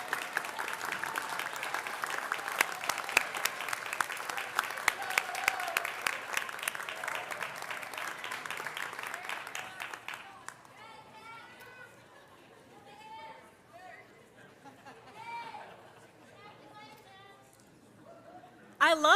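A ceremony crowd claps and cheers loudly for about ten seconds. The applause then dies down into scattered chatter and voices, and a brief burst of noise comes at the end.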